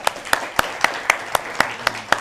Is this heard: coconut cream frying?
no